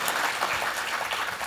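Audience applause at a parent-child talent competition performance, a steady wash of clapping from many hands, moderately loud and continuous throughout.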